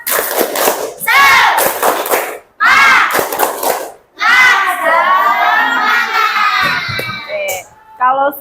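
A classroom or training audience performs a rhythmic group clap chant, with loud bursts of voices and clapping in repeated phrases, pausing briefly between sections, then a long sustained shouted chant.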